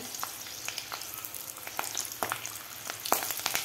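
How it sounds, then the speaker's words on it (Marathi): Green chili peppers fry in hot oil as a side for crispy dal vadas, making a dense, constant crackling sizzle with frequent sharp pops, close and unaccompanied by speech. "हे तळून घ्यायच्या आहेत मिरच्या. वड्याबरोबर मिरची खायला खूप छान लागते."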